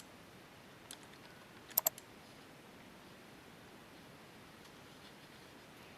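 Computer mouse clicks while working in dental CAD software, one soft click followed by a quick cluster of three sharp clicks, faint over quiet room noise.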